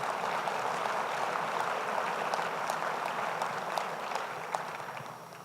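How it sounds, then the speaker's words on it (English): An audience at a Denver sustainability summit applauds steadily for several seconds, a dense, even clapping that fades slightly toward the end, with no speech over it. "let's give our council people a round of applause"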